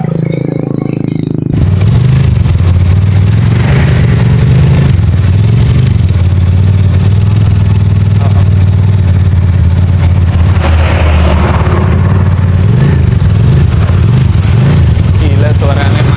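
A two-cylinder 500cc motorcycle built around a Honda Tiger engine, fitted with a new piston, revs loudly and close up in a steady throbbing drone with repeated rises in pitch across the clip.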